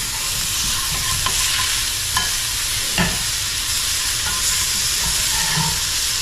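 Sausage links, four pieces, fry in an 8-inch cast iron skillet over medium heat, giving a loud, steady sizzle with a few faint clicks from the pan throughout.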